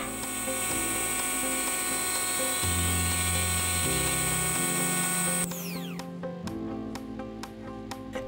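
A small lathe faces a brass clock crutch part to length, its motor whining with shifting tones before spinning down, followed by a few sharp mechanical ticks and clicks.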